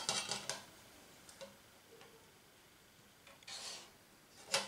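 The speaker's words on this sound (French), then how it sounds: "Je positionne ma règle, puis je trace." Pencil rasping along a ruler as a line is traced, a few short scratchy strokes with quiet pauses between them, close and faint with no talking.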